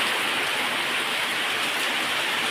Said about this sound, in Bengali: এদিকে বৃষ্টি পড়ছে